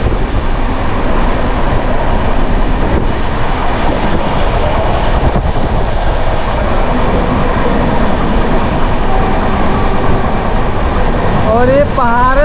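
Patna–Howrah Jan Shatabdi Express running at speed through hilly country, heard as a loud, continuous roar and rumble of wheels and rails, steady throughout, with a few rising squeal tones at the end.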